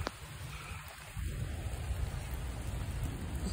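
Rain falls steadily in a garden with okra, gourds and honeysuckle, a soft hiss that rises from quiet to a fuller patter after about a second and continues without speech.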